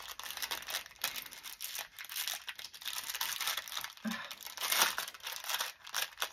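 Paper and ephemera crinkled and crumpled by hand while making fall journal cards and tags, a steady run of close, dry rustling crackles with brief pauses and a faint voice in the background.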